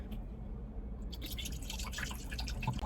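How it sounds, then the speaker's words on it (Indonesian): Water is poured into a plugged-in electric kettle and splashes steadily into it close by, turning brighter and splashier partway through. "Ini aku udah colokin kabelnya, terus tinggal dituang air."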